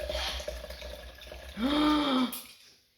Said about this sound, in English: I'll add a little more water to it